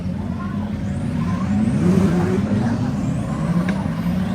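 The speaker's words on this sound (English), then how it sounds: "History's been made at the Bangsaen Grand Prix as Formula cars for the first time ever go racing on this track." Formula race cars pull away at the Bangsaen Grand Prix, a loud engine roar rising and sweeping past with a swelling pitch, blending into a broad mechanical drone over the whole stretch.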